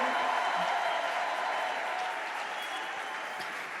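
Steady, dense applause and cheering from a worshipping crowd at a church gala evening, loud and sustained throughout with no talk over it.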